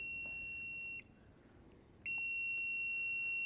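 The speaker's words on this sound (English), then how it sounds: "let me turn the buzzer off" A continuity tester buzzer sounds during repair of a John Deere Model E magneto, giving a steady electronic tone that sounds for about a second, stops, then resumes loud and unbroken, close by with no talking.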